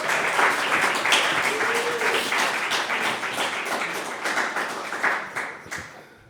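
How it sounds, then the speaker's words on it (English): An audience at a literary reading and conversation claps loudly and steadily, a dense crowd of hand claps that keeps going and thins out slightly toward the end, with no talking over it. "Let's get our first round of applause for Will Alexander"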